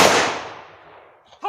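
A funeral guard fires a rifle volley as a gun salute at a state funeral in Latur, a single sharp loud crack that decays over about a second, followed by a brief shouted voice.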